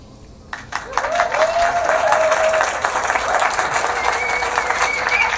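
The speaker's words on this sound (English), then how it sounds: "here's a few claps because we're back" Canned applause from a phone clapping app bursts in after a brief click and carries on as a steady wash of many hands clapping, mixed with faint cheering, loud and close.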